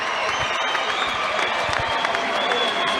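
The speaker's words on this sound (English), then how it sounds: "receiving the applause from the capacity crowd here at the O2 Arena" A capacity crowd at the O2 Arena applauds and cheers after a heavyweight boxing knockout, a dense, continuous wash of clapping and crowd noise from a large arena, with a commentator talking over it.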